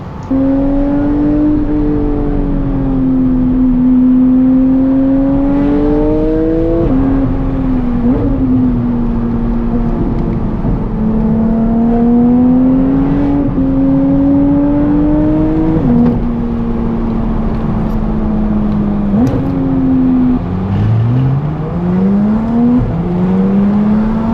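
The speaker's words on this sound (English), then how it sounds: "It's not as engaging without an exhaust sound, so I will add in a GT4 RS overlay." A Porsche GT4 RS exhaust note plays over a drive along a winding road, a loud, continuous engine howl climbing and dropping in pitch through repeated shifts and throttle lifts, with nothing else heard.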